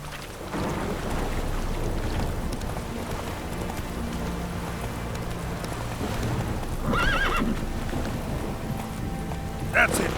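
Roach, a horse in The Witcher 3, trots with continuous clip-clop hoofbeats under low rumbling ambience, then gives a short whinny near the seven-second mark and another brief neigh at the end.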